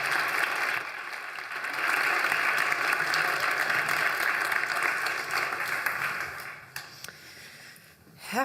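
Graduation audience applauding in a hall, sustained dense clapping at steady loudness that thins and fades near the end, heard alone without talk.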